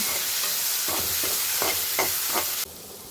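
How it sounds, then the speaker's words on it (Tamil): Brinjal and potato pieces sauté in oil for a spicy kuzhambu, with a steady close sizzle broken by a few spatula stirs before the sound cuts off near the end. "நல்லா எண்ணெயிலே வதங்கணும், அப்போ தான் நல்லாயிருக்கும் குழம்பு."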